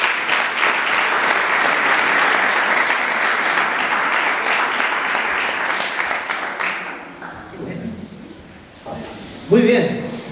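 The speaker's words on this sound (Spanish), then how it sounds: "Denle un aplauso." Congregation applause at a Sunday church service, loud, dense clapping from a crowd that fades after about seven seconds, followed by brief murmuring and a voice.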